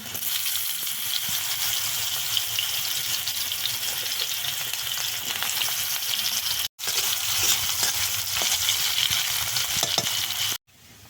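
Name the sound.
mustard and green chilli paste frying in oil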